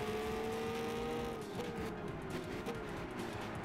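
A Dodge Challenger races in Gran Turismo 5, its engine droning at sustained high revs with brief dips in pitch at gear changes, loud and continuous with tire and track noise beneath.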